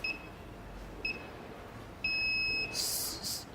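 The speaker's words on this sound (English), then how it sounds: "I'm going to arm the alarm panel through the app." An OUSKI X10 WiFi/GSM smart alarm panel gives two short beeps followed by a longer tone as it is armed from a phone app, then a brief burst of noise, heard close and clear in a quiet room.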